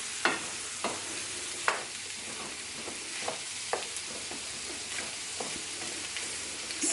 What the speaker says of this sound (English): as you're mixing it in, you can smash the potatoes